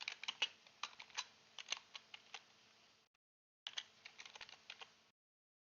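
Soft, quick keystrokes on a computer keyboard as a chart title is typed into a Power BI dashboard, irregular bursts of clicks close to the mic, a short pause, then another run of typing.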